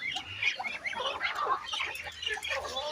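A flock of ducks and chickens squawk and cluck busily together while being fed ground water spinach and commercial feed, a continuous chattering of birds at close range with a person talking in between.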